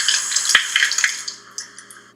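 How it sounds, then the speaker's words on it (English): Running tap water splashes steadily over almonds being rinsed, with a few sharp clinks and knocks, tapering off as the flow stops near the end. "Then rinse your almonds for a few seconds."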